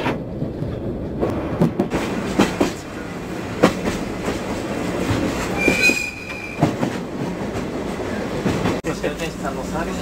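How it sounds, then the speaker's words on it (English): A faster JR train in Japan rolls past with rhythmic wheel clatter, rumble and a brief high squeal, moderately loud with faint voices in the background. "There goes the train."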